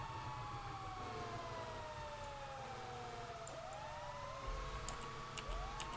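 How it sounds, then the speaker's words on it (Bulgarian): Several overlapping wailing sirens rise and fall in a video game, steady and moderately loud, joined near the end by a few sharp clicks and low thumps. "Пускайте сирените!"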